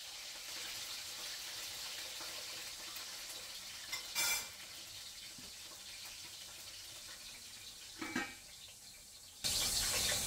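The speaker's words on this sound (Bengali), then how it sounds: "এখানে আলু ভাজা হচ্ছে মাংসের জন্য" Potatoes fry for a Bengali mutton curry, a soft, steady sizzle low in the mix. Brief clatters of stirring break in now and then, and a louder hiss of oil starts near the end.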